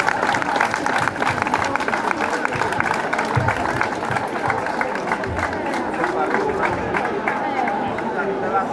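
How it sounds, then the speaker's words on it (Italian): Applause for a local association at a village festival, steady dense clapping with crowd chatter and murmuring throughout, fairly loud and sustained. "Farei un applauso all'associazione"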